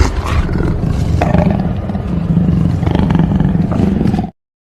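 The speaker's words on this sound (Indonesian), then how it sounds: "Beberapa kali Kelly harus menghadapi harimau tersebut seorang diri hingga mengalami pendarahan hebat akibat cakaran harimau." A tiger roars loudly and close in a sustained, rough, rumbling growl lasting about four seconds before cutting off abruptly, with no talking.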